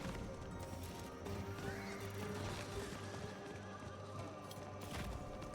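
A horse in Diablo IV clip-clops along at a quick gallop with rhythmic hoofbeats, mixed with a neigh and scattered crashing game sounds, moderately quiet.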